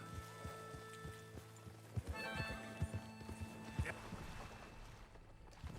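Hooves of a horse ridden by Arthur in the Red Dead video game, drumming in a steady, close clip-clop gait over a bed of soft background music and ambient sound.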